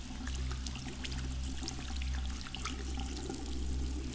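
Shower water running steadily in the video game Among Us, a continuous close hiss and patter that stays even from start to finish with no voices.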